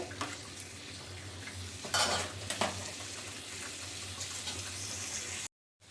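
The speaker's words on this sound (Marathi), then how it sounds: "आता आपण थोडं थोड्या वेळ असंच भाजून घेऊ" Chicken sautéing and being stirred in a pan for a spicy village-style Konkan coast chicken dish, with steady sizzling, a couple of louder scraping stirs in the middle, and a brief cut to silence near the end.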